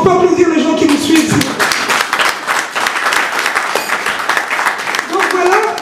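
Audience applause fills the middle of the clip, a dense patter of many clapping hands, with voices heard briefly at the start and end.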